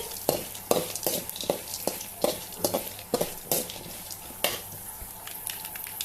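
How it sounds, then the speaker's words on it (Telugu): Chana dal, coriander seeds, cumin, mustard seeds and fenugreek dry roast in a pan for sambar, with repeated scraping stirs and light rattling of seeds at a close, steady rhythm. "పచ్చెనపప్పు కొద్దిగా ధనియాలు కొద్దిగా జీలకర్ర కొద్దిగా ఆవాలు మెంతులు కొంచెం అన్నీ వేసేసి దోరగా వేపుకుందామండి"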